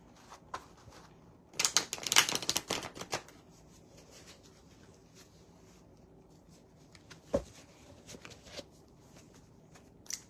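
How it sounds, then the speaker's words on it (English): A deck of cards is riffled in a brisk burst of rapid fluttering snaps, followed by a few quieter taps and handling noises. "Let me shuffle it one more time."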